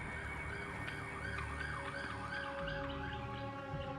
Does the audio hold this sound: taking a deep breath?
no